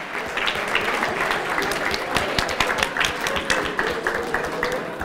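Applause from an audience at the closing ceremony of the QA: Challenge Accepted 4.0 conference, greeting Sashka Dimitrova. Dense, steady clapping from a large crowd fills the whole stretch at an even, loud level.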